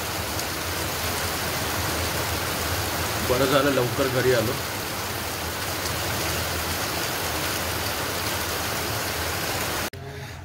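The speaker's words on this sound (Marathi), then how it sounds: "रात्रीचे 9:15 वाजलेत आणि खूपच पाऊस पडतोय." Steady, dense hiss of heavy night rain pouring without letup, with a brief spoken remark partway through and a sudden drop near the end.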